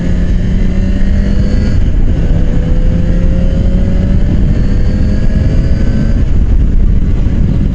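Loud, steady wind roar with a droning engine hum underneath while riding a Yamaha FZ6R motorcycle fitted with new tires, a continuous rushing blast with no pauses.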